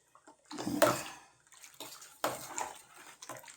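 Tamarind water is poured into a simmering village-style puli kuzhambu with spice masala, in two splashy pours, the first fuller and the second shorter, close up and alone.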